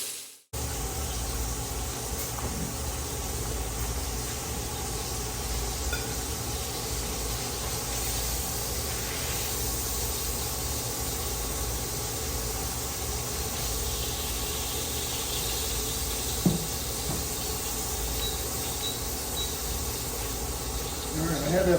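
Swiss steak cut from eye of round searing in hot grease in a cast iron dutch oven, a continuous dense sizzling hiss running steadily with little change throughout.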